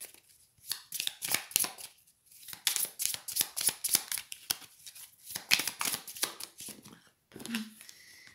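Tarot cards being shuffled by hand during a reading, a steady run of crisp riffling and slapping card sounds with brief pauses, close and fairly loud, no talking.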